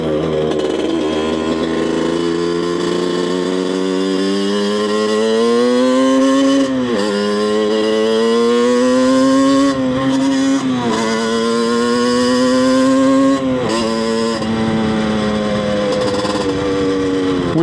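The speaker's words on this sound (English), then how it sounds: "this is the raw and uncensored first ride on the Banshee bike" Banshee supermoto motorcycle on its first ride after fresh jetting, engine loud and close, revving hard in long rising sweeps that break off at each gear change, with no talking.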